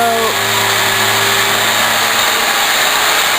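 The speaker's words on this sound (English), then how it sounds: "he's doing the final grinding and the final polishing on this interesting edifice" A power tool grinds and polishes a complex sculptural piece, a steady loud whine with tonal pitch shifts early on, running continuously under broadband noise.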